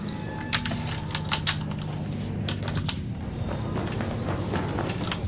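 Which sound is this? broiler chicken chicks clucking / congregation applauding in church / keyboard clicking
keyboard clicking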